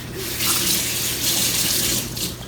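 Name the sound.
washing a spoon under running tap water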